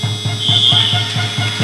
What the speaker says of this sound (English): The final buzzer sound for this first half